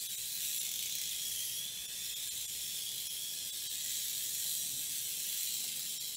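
A Turbo Racing TC01 or TC02 RC car runs full-throttle passes on carpet, giving a steady high-pitched electric motor whine with hissy tire noise, moderately loud and continuous, with no voices.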